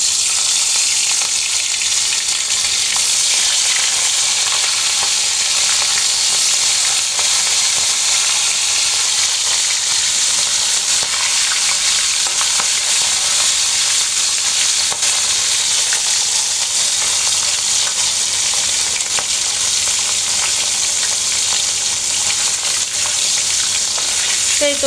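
Hilsa fish pieces frying in very hot oil, a loud, steady, dense sizzle that runs unbroken throughout with no voices.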